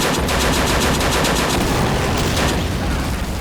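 Sustained .50 cal machine gun fire on Le Shima beach in Men of War: Assault Squad 2, dense rapid bursts loud and near, with a layered battle din and no talk.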